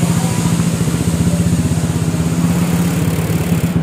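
A Honda PCX 160 scooter fitted with an SKR racing exhaust tuned for deep bass runs in a steady, low, throbbing rumble that stays loud and even for about four seconds, with no talk.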